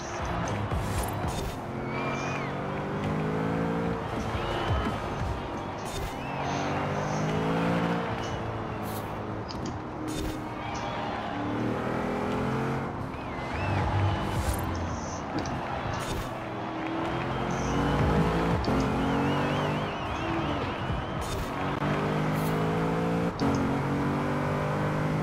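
A racing car in Forza Horizon 4 on an Edinburgh tour is pushed to full throttle, its engine revving hard with rising and falling pitch through gear changes, loud and continuous for the whole stretch.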